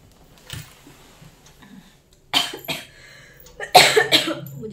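A few separate coughs sound up close, one single cough early on, then a pair, then a harsh cluster of rapid coughs near the end.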